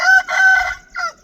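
A rooster crows loudly and close by, a long drawn-out call broken into two parts followed by a shorter final note, with no other sound around it.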